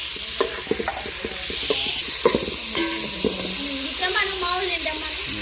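Food sizzles and fries in a pan with a steady hiss, under frequent clinks and scrapes of stirring, while people talk close by.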